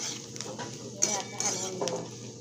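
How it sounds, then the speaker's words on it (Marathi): A crispy chickpea snack is stirred in a pan with spice powder and chopped coriander, giving soft scraping and a few light metallic clinks over a faint background hum. "आता हलवून घेऊ."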